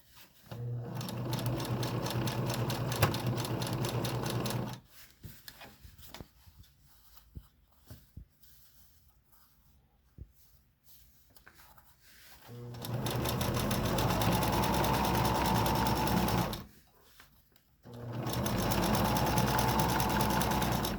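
Sewing machine stitching elastic along the edge of a fabric face mask from a contour mask kit, running in three loud steady bursts separated by quiet pauses with small handling noises.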